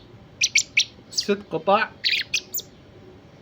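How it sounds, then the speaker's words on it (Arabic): Young blackbird chicks chirp in quick, sharp bursts at close range, with someone talking over the calls in the middle of the sequence. "طيور كبيرة عابرة مرحلة الخطر"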